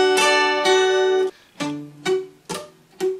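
Strummed acoustic guitar chords are played open and without palm muting, ringing and clear: one long sustained chord, then four shorter, choppy strums in a steady rhythm, close and alone.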